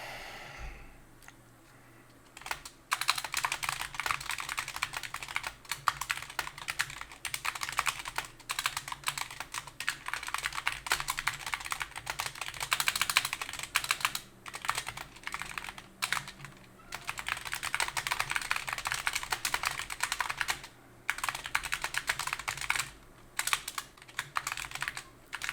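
Someone types a comment on a computer keyboard: close, rapid key clicks in long bursts with short pauses, running for most of the stretch, with occasional breathing and a soft sigh.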